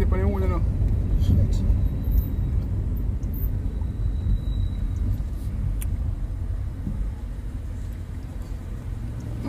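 Heavy road traffic rumbles continuously with a low, steady drone of passing cars and engines, fairly near and without a break, while a faint voice occasionally comes through underneath.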